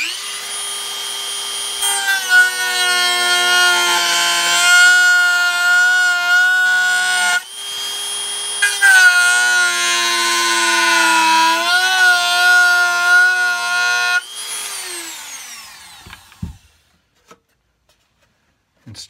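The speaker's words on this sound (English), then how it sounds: "then what I do is I get my little Dremel" A small Dremel rotary tool cuts into cigar box wood for a guitar build, its high whine holding steady for long stretches and dipping briefly as the bit bites; it stays loud and close, then stops near the end.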